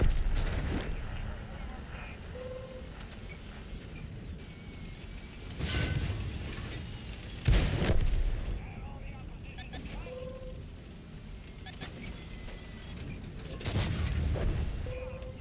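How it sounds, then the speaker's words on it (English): Tank cannon fire in the console version of World of Tanks, several heavy booming shots spaced apart over rumbling battle ambience, with a person talking between the blasts. "So we want to shoot. Fire."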